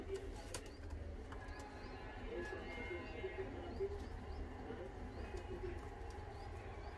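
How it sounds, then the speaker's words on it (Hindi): Pigeons coo softly in repeated low calls, with a few chirps and faint talking in the background. "राजीव कोटला के घर से आए कबूतर।"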